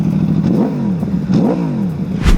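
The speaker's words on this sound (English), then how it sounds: "This Aprilia 200 V4 Factory is our newest giveaway motorcycle" An Aprilia V4 Factory sport motorcycle engine revs hard several times in quick succession, pitch sweeping up and down, loud and close, ending with a sharp burst.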